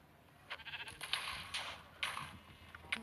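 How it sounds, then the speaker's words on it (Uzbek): Sheep bleat several times in quick, uneven calls, fairly close and distinct against a faint background. "Ana qo'y o'zi boshlabdi."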